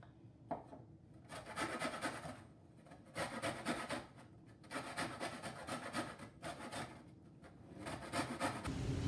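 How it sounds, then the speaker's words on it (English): A Microplane zester rasps over lime peel for key lime pie, with repeated rhythmic scraping strokes in several bursts, close and clear with no talking. "I use this zester. This is a tool made by a company called Microplane, and it's actually made for zesting."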